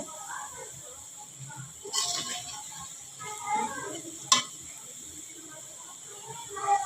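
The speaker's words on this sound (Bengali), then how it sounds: "দেখছেন আমার পেঁয়াজটা ভাজা ভাজা হয়ে গেছে এখন আমি বেটে রাখা মশলাগুলো দিয়ে দিব" Fried onions sizzle in a pan as ground spice paste goes in, with a steady soft hiss and a few scraping stirs. A sharp metallic clink stands out partway through, and faint talk sits underneath.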